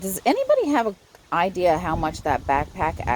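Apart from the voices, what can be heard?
No everyday noises stand out.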